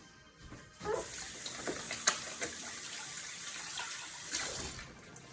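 Water running from a kitchen tap while lamb meatballs are shaped by hand, a hissing stream that starts after a second and flows steadily, with a few small clinks and splashes.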